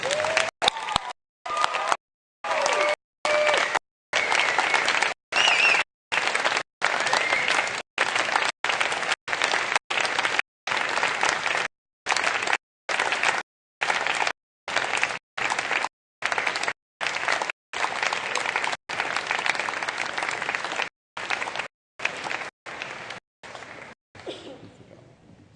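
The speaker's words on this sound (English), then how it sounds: "give them a round of applause and a standing ovation for all they've done" A university convocation audience gives sustained applause and a standing ovation, a broad roar of clapping broken repeatedly by brief gaps of silence, tapering off near the end.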